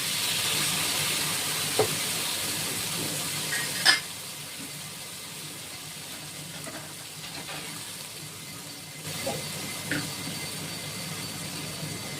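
Poppy seed and green chilli paste hisses steadily in a hot pan, a broad continuous sizzle with a few faint clinks and scrapes on top, no talking.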